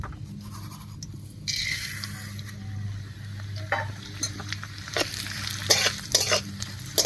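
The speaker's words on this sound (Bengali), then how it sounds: "মুগ ডালটাও হালকা করে ভেজে নেব।" Half a cup of moong dal fries in a pan of mustard oil tempered with cumin, chillies and bay leaf, giving a steady close sizzle with scraping spoon strokes and sharp clicks against the pan, and no voices.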